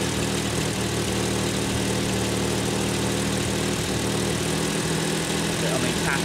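A Ford Sierra Estate Mk1 4x4 Ghia with a 2.8 engine idles with an exhaust blow, giving a steady, dense rumble with a faint irregular puffing, close by and unbroken throughout.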